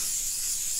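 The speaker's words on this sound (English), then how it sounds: "Oh, I love my spot spray." A brief, soft, steady hiss of spray from a can misting onto a wet painted canvas, faint and close.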